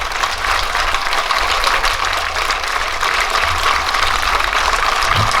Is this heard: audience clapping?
yes